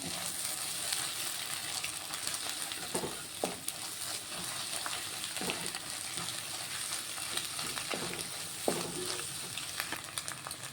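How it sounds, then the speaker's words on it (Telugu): Egg frying in a pan for homemade egg noodles gives a continuous soft sizzle, with occasional scrapes and stirring knocks from a spoon against the pan. "ఇలా కొంచెం ఎగ్ ఫ్రై అవుతుంది."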